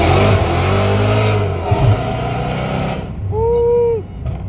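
An 800hp Dodge Hellcat Redeye engine revs hard through a full-throttle acceleration pull, loud and close, its roar climbing and then dropping away as the pull ends.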